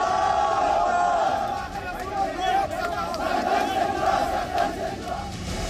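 A dense crowd at a protest chants slogans in unison, loud and continuous, with rhythmic shouting rising and falling over a general roar.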